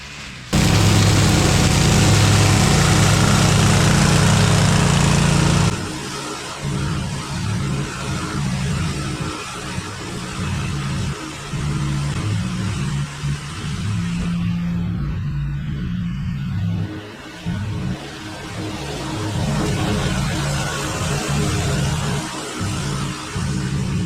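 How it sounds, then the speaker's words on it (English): A leaf bagger machine runs over leaves with a loud, continuous engine roar and rumble that drops slightly after a few seconds, then keeps droning with uneven crunching and bumps throughout. "we're gonna run the accelerated bagger right through this."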